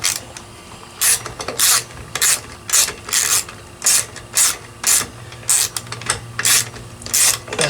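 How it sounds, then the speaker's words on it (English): Rusty little screws being turned out of a salvaged lawn mower engine, a rhythmic series of loud, close ratcheting clicks in regular bursts, one after another with no talk. "these little screws are quite rusty, but they're coming out just fine"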